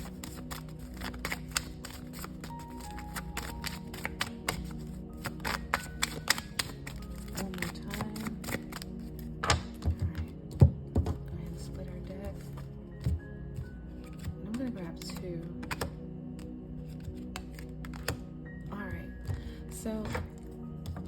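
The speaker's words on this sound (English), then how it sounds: "I want to go ahead and grab a couple of Kipper fortune telling deck cards for us." Soft card handling as a Kipper fortune telling deck is shuffled and drawn, with light flicks and slaps scattered under a person talking throughout.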